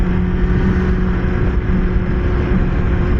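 A Kawasaki Ninja ZX-6R sport bike being ridden, a loud steady engine drone with a constant pitch and rushing noise throughout, heard up close without talk.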